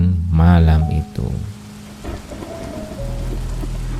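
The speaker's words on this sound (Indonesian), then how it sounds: "Malam semakin larut dan hujan di luar semakin deras." Heavy rain falls outside at night as a sound effect in a horror story about room 13 of a hotel in Central Java, a steady hiss rising after a burst of voice and low rumble.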